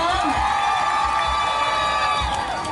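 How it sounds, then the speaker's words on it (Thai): An audience at a concert claps, cheers and whoops together, a loud, continuous crowd roar with shouting voices over a steady low thumping beat. "ขอเสียงปรบมือให้ทุกคนอีกรอบนึง"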